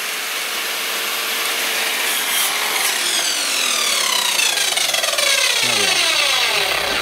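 Miter saw cutting through a piece of wood for a bird table, a loud sustained whirring rasp of the blade biting the timber, the motor pitch sliding down as it spins down, close by.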